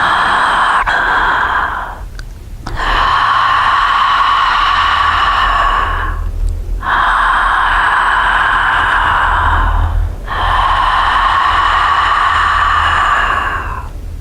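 Ujjayi yoga breathing with the throat constricted on both inhale and exhale makes a close, loud, ocean-like rasping hiss in long sustained breaths, three extended strokes separated by brief quiet gaps.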